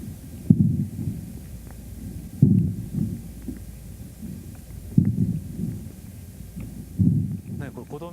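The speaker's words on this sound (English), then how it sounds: "This is the sound of a beetle eating a melon." A beetle eating a melon: low, muffled rhythmic thumps come in four bursts about two seconds apart, each a soft crunching pulse over a quiet rumbling background.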